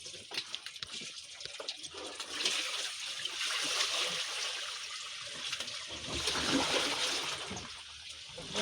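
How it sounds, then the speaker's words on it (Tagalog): Water is tipped out of a motorcycle's tubeless tire after a failed DIY repair, making a steady splashing, trickling pour that swells and fades over several seconds, close up with no talking. "Tinapon na yung tubig."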